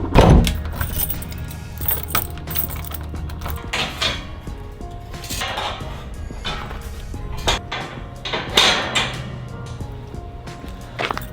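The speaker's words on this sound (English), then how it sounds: "lock the last door behind us" Keys jangle and clatter while a door is locked at closing time, in repeated bursts of metallic rattling with thuds and clicks of the lock, close by, over about eleven seconds.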